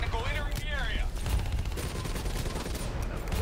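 Gunfire from the player's weapon in Black Ops 3, rapid overlapping bursts of shots with game effects and a voice briefly heard over the barrage.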